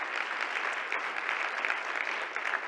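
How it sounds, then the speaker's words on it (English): A crowd claps for the Teachers of the Year at an afternoon speaker event, a dense, even patter of many hands held steady for a few seconds, moderately loud with no one speaking over it. "Please do give another applause to Yoazama, Carissa Adams, Teachers of the Year"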